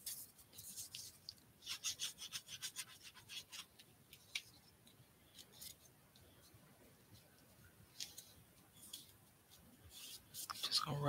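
Something being rubbed into a handmade journal page: quiet, intermittent scratchy strokes in short bursts, close by in a calm room, growing a little louder near the end.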